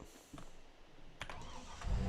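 A Massey Ferguson 3670 tractor engine in Farming Simulator 22 cranks briefly and then catches, settling into a low rumble. It plays quietly and alone.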